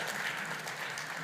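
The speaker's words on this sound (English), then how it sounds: "Let's give a big applause to Rasul." Audience applause at a Devcon SEA conference stage, a steady, even wash of many hands clapping that fills the short stretch at moderate distance with no voices over it.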